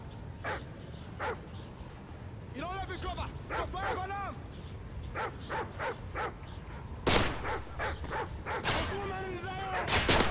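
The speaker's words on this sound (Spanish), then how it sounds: "Equipo, el enemigo ha desplegado perros en su posición." Dogs bark repeatedly in the Modern Warfare 3 Survival video game on the Dome map, in short yips and bow-wows of varying loudness. Sharp gunshots are mixed in and break through now and then.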